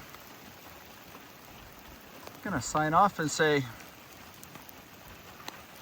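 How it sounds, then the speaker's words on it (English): Rain begins to fall outdoors, a steady soft hiss of drops on surfaces that runs through the whole stretch while someone briefly speaks over it midway. "while it's starting to finally rain here"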